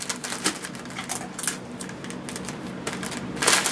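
Clear tape pulled and pressed down while wrapping a cake for sale, a series of quick sticky crackles and taps close up, with no talking.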